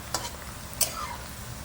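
Chopped garlic frying in a pan for Bengali-style mutton curry, a steady soft sizzle with a couple of brief stirring scrapes.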